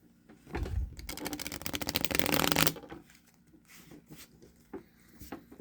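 A deck of playing cards is riffled in a rapid fluttering burst lasting a couple of seconds, followed by softer taps and card handling.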